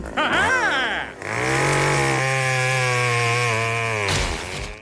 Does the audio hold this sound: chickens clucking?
no